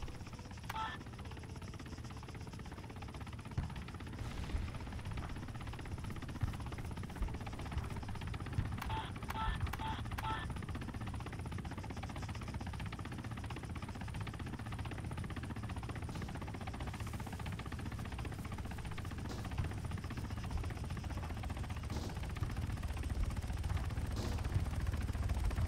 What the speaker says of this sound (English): Where the helicopter is flying over right now